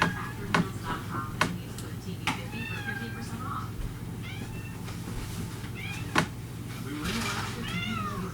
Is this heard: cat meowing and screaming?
yes